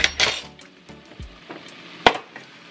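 Half an onion hits a hot pan with a brief sizzle, followed by a few clinks and scrapes of a utensil against the pan and a sharp knock near the end.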